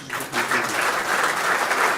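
An audience claps at a Portuguese presidential campaign talk event, a steady, moderately loud round of applause filling the whole stretch without speech.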